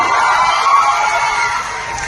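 A large crowd at a political rally in Gujarat cheers and claps, a dense, loud, continuous roar of many voices and hands.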